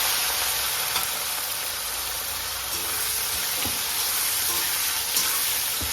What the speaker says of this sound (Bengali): ওই তেলে চিংড়ি মাছগুলো ভেজে নেব।